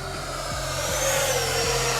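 FMS F-16 64mm electric ducted-fan RC jet under throttle, a steady high-pitched whine and rushing roar that rises slightly in pitch, loud and continuous with no talking.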